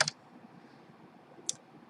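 Two isolated keystrokes on a computer keyboard, a sharp click at the start and another about a second and a half later, with a quiet room hum between them.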